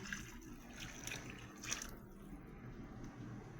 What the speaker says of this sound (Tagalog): isasabaw ko na yung milk na nilagyan ko ng tubig